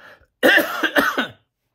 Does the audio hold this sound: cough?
yes